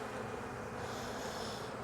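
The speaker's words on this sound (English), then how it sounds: "There's a lot of bees on here" Honeybees from a freshly hived swarm crawl over brood frames in Jacksonville, Florida, making a continuous, even buzzing hum up close at low volume, with no speech.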